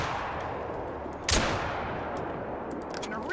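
A single sharp Grelck rifle shot in The Hunter: Call of the Wild cracks out over a quiet outdoor ambience, followed by a fading echo.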